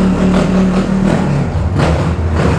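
A motorcycle running on ethanol revs close by, a loud engine drone that steps down in pitch partway through with some low thumps, no one speaking.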